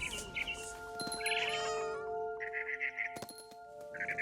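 A cat meows in the video game What Remains of Edith Finch, several short mews spaced across the moment over a soft game ambience with faint tonal music.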